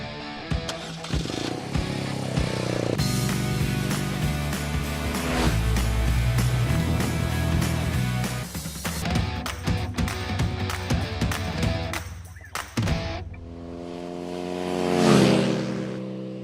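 An adventure motorcycle on Shinko 804 and 805 tires rides a dirt road, engine droning and revving close by with shifting pitch, then a brief pass of wind noise and a swelling whoosh near the end.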